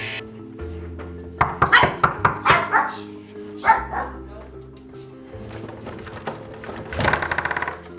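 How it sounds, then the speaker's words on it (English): A dog barks in a quick burst of sharp, close barks, pauses, then barks again, over a steady low mechanical hum. "you can already hear the dog barking"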